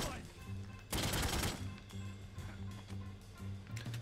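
A gunshot in a video game: one loud, sharp blast with a burst of noise partway through, over a quieter game soundscape with faint sustained tones and softer background effects.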